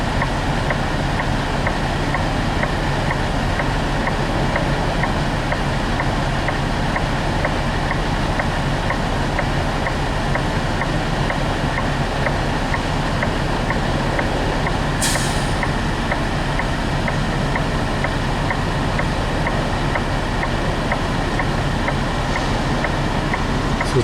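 Semi truck backing into a loading dock: a continuous loud engine drone with a steady rhythmic ticking throughout and one sharp hiss partway through, no talking.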